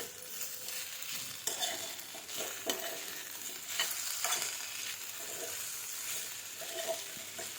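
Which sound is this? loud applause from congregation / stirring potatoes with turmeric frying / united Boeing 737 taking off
stirring potatoes with turmeric frying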